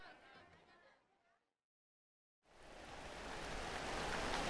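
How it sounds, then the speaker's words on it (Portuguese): Rain patters into puddles in a deserted outdoor square surrounded by grass, heard as a steady, dense hiss that starts abruptly after a short silence and grows slightly louder. "Chove. Em poças de água, chuviscos de chuva."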